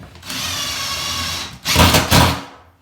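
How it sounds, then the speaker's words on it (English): A power drill drives 1.5 inch stainless steel panhead screws into sound wood beside rotten floor framing, a loud close whine held steady for over a second, then two shorter strained bursts as the screws seat. "I'm able to screw those into the good wood that's well past the rotten wood."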